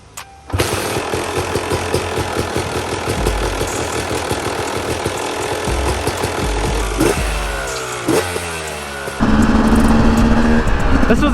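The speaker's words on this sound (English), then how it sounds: "make sure the bike runs with this carburetor before I put the plastics or anything further back on" A Yamaha YZ250 two-stroke dirt bike fitted with a Lectron carburetor fires up and runs loud and close, idling with a rough crackle before blipping and revving in rising and falling bursts.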